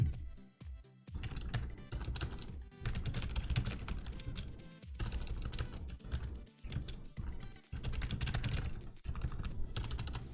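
Fingers tap fast on a computer keyboard in a quiet room, a close, continuous patter of key clicks broken by a few brief pauses.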